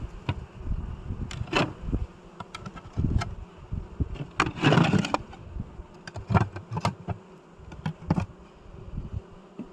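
Steady insect buzzing of bees at an abandoned apiary fills the background, with intermittent clicks, thumps and handling noises close by as hive frames are handled; no speech.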